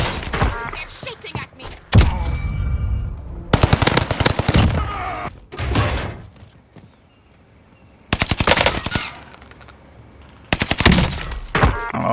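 Machine gun fire in Warzone Pacific, with several loud, close bursts of rapid shots separated by quieter gaps and thuds.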